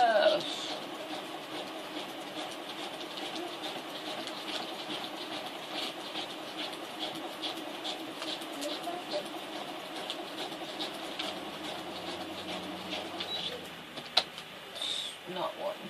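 A sewing machine stitches through folded newspaper with a steady, low mechanical whir and rapid needle chatter, fairly quiet and continuous under a person talking, ending with a brief knock near the end.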